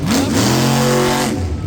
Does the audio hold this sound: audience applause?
no